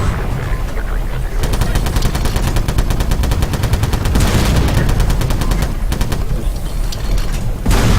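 A weapon in a video game mod fires in fast, evenly spaced automatic bursts, loud and close, with short pauses between strings of shots over a dense background rumble.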